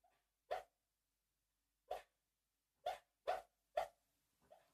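A dreaming dog vocalizes in her sleep with five soft, muffled woofs spaced irregularly across a quiet room, ending in a faint whimper-like sound.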